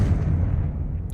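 A Confringo fire spell blast in Hogwarts Legacy, heard as a dense, loud low rumble that sustains for about a second with no voices.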